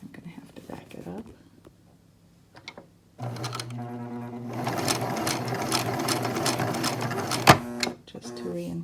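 A sewing machine zigzag-stitching over a pipe cleaner while making a flute mask runs in a steady rapid burst, stopping briefly as it reverses to backstitch and reinforce the seam, with quiet talk before it starts.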